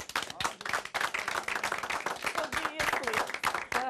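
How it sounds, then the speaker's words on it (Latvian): Studio audience claps for a TV talent show finale third-place finisher, a dense, steady burst of clapping mixed with crowd noise and voices throughout. "Aplausi, Madrī"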